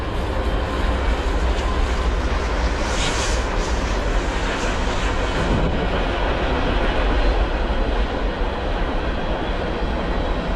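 A train with a Kansas City Southern locomotive rumbles steadily past at close range, a loud continuous mechanical roar and rattle of rolling wheels with no voices.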